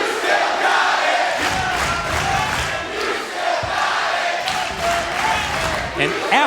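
A wrestling crowd roars at a Victory Road event, a loud, sustained wash of cheering and shouting that fills the arena, with a commentator's voice talking over the noise.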